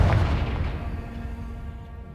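Confringo spell blast in Hogwarts Legacy, a single booming fiery explosion at the start that decays into a rumbling tail over about two seconds, loud and close.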